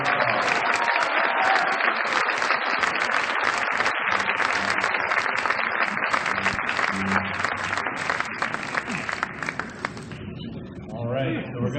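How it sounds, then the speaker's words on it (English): An audience at a district arts festival applauds teachers and students in a long, dense burst of clapping that stays loud for most of the stretch before thinning out near the end, with voices briefly audible. "another round of applause"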